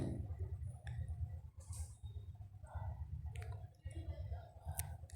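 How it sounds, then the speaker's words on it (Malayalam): Mustard seeds, fenugreek and chilli sizzle in a tablespoon of hot coconut oil, a steady close crackle with scattered pops and sputters, while a voice talks faintly in the background. "കടുക് വറക്കാനായിട്ട് ഒരു ടേബിൾ സ്പൂൺ വെളിച്ചെണ്ണ ഒഴിച്ച് കൊടുത്തിട്ടുണ്ട് അതിലേക്ക് കടുക് ഒരു നുള്ള് ഉലുവ"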